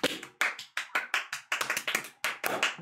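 A few hands clap in short, uneven bursts, close and dry, with sharp distinct slaps rather than the wash of a large crowd, standing in as applause from a live audience during a video game stream.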